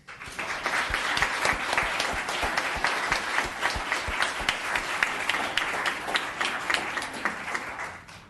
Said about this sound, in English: let's recognize, applaud, and welcome the business of the year this month is Gillies.